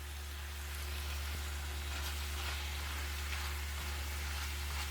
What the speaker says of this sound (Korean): 얘네를 이 불과 기름에 볶아줘야 됩니다.